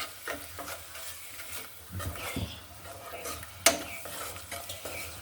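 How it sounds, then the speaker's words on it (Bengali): Spices — turmeric, chili and coriander powder with salt — being stir-fried in a pan for a vegetable and dried fish curry, a steady soft sizzle with scraping stirs and one sharp utensil clink against the pan. "মশলাটা আমি ভালোভাবে কষিয়ে নিব"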